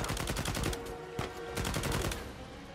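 Rapid bursts of gunfire from a firefight in Uncharted 4, loud and dense, with repeated shots rattling close together through most of the stretch and a short gap in the middle.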